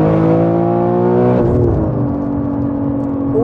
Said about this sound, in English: The engine sounds angry, innit?